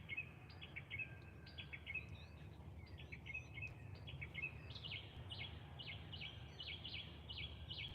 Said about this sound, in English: I hear some birds too out there.